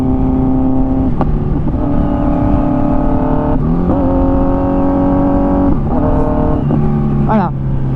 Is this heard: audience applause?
no